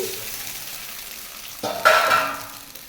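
Cooked rice drops into a pan of frying carrot pieces, followed by a short stir with a sharp scrape and a swell of sizzling over a few seconds; no voices.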